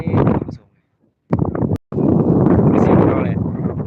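Wind gusts across the Phou Houa Lone mountain top in Xaisomboun, Laos, buffeting the microphone in loud, roaring bursts broken by a brief lull, while a voice speaks.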